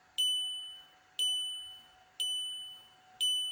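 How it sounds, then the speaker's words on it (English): Four evenly spaced electronic chime tones from a VW Golf/Jetta Mk5 warning gong tested on a bench, each a bright ding that rings and slowly fades before the next, steady about once per second. "As you can hear that the gong is working"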